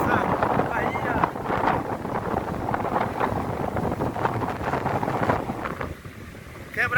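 Steady wind on the beach at Guaibi in Valença, Bahia, on the coast behind a row of windbreak trees, blowing loud and continuous across the microphone with gusty rumble throughout.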